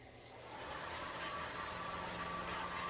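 A wood lathe motor spins up with a walnut bowl blank mounted, running at around 1300 RPM; a faint, steady mechanical hum builds within the first half second and then holds evenly.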